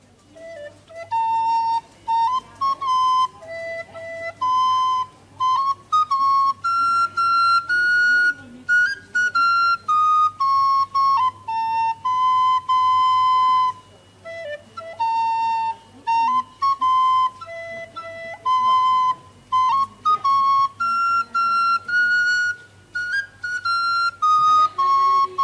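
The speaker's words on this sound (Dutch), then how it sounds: "Zal ik eens wat moois fluiten voor u allen?" Someone whistles a melody alone in clear, pure tones, phrase after phrase with short breaths between, close and fairly loud over a faint low hum.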